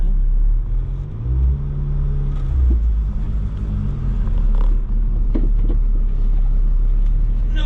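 Rear-engined Subaru Sambar kei van driving along, its engine giving a steady close low rumble with brief rises in pitch as it pulls away, the drone continuous throughout.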